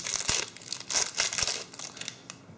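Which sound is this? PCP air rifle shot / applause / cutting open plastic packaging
cutting open plastic packaging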